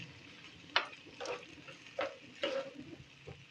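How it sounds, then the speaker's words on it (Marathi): A spoon turns carrot, cauliflower, capsicum and paneer over rice in a pan, giving soft scrapes and a few clicks against the metal over a faint, quiet sizzle. "हे चांगलं परतून घ्यायचं आहे."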